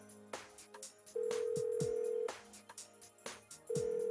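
A phone call rings unanswered in the video game Persona 4 Golden: two long, steady electronic ring tones over soft game music, with a third tone starting at the end.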